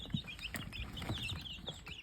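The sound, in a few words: backyard chickens clucking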